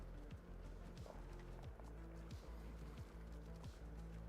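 A Shire horse runs in a video game, its hooves thudding in a quick, even gallop rhythm, quiet and steady, with a low rumbling background throughout.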